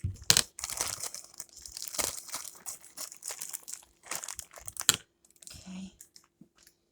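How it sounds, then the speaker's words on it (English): A plastic bag is cut open and handled, giving close, bursty crinkling and rustling in uneven clusters, with a few brief sharp snips and quieter pauses between. "I just cut my bag"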